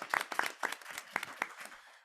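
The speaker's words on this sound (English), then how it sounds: "Big round of applause for Karthik Ramakrishnan." Sparse, faint clapping from a small audience at a civic event on immigrant integration, with a few separate claps that quickly die away.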